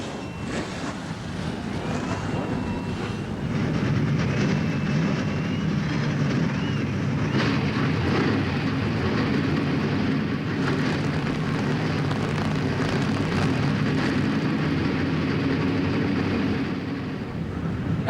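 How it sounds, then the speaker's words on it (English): A field of NASCAR Craftsman Truck Series race trucks idles and revs after starting at a Tucson, Arizona race, a dense continuous engine rumble with crowd and wind noise blended in, steady and loud throughout. "The engines have cranked."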